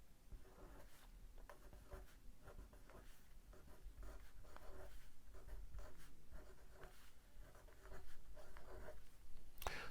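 A pen writing numbers on paper, close scratchy strokes in short bursts with brief pauses, quiet and continuous with no talk.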